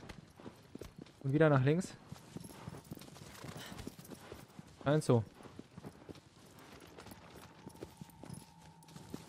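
Horse hooves clip-clopping in the Shadow of the Colossus remake video game, with a couple of loud bursts that sound like neighs over a steady background, while someone talks throughout.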